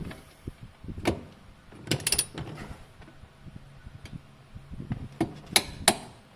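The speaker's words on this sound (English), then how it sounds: "I'm going to use a torque wrench though, because I just got it and I want to use it" A torque wrench tightening a middle seat belt bolt to 25 foot-pounds in a 1999 Honda Accord, a series of quiet ratcheting clicks and metallic ticks in irregular bursts, close and without talk.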